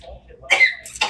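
Two short, harsh coughs close by, one right after the other.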